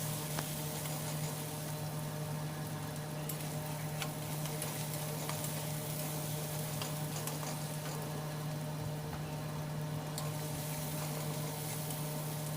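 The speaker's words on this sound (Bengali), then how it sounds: "আরো কিছু পেঁয়াজ টমেটোটাকে ভেজে নিতে নিচ্ছি" Onion and tomato paste frying in oil in a pan, a steady close sizzle with faint ticks and a constant low hum underneath, unbroken and without voices.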